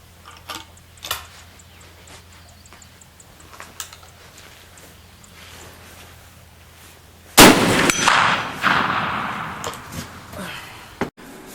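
Bullets strike a half-inch AR500 steel target, 8 inches wide and 100 yards away. Faint ticks come first, then a sudden loud crack and ringing clang that decays into noise, followed by one more sharp hit near the end.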